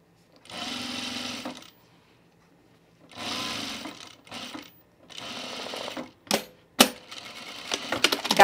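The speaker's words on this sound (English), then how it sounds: "We're going to stitch the tape down to the right of the zipper." A sewing machine stitches zipper tape down on chino pants in several bursts of steady running, separated by pauses, ending with short clicks and handling noises up close.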